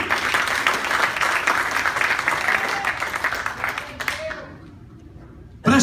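Church congregation applauding in unison, a steady dense wash of clapping that carries for about four seconds, then thins out and fades near the end, with faint voices mixed into the crowd.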